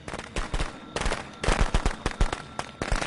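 Fireworks going off in the Friday the 13th video game, a rapid string of sharp cracking bangs in uneven clusters, loud and close, with no voices.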